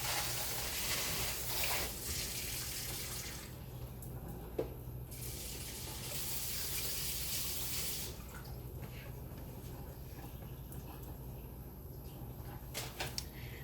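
Kitchen sink tap running to cool freshly cooked asparagus, a steady broadband rush of water that shifts in tone as the flow changes, close and continuous with a few drips and clinks near the end.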